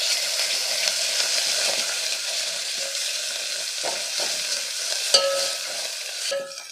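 Spinach dal with crushed garlic and turmeric sizzles gently in a pan while a spoon stirs it, with soft scraping strokes and small clinks over a steady frying hiss and no talking.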